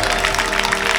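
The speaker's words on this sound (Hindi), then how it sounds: "जोरदार तालियों से इनका अभिनंदन।" An audience at a spiritual gathering about Sanatan Dharma and a Swaminarayan temple gives steady, dense applause that fills the whole short moment at an even, lively level.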